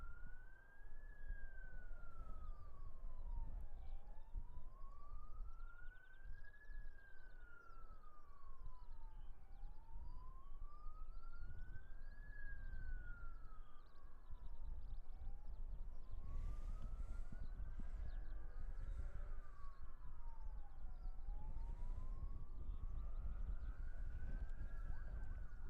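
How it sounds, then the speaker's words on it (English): Emergency vehicle sirens wail steadily in the distance near Christchurch Airport in New Zealand, with a slow rising and falling tone over a constant background hum. "Quite a few sirens buzzing away in the background there."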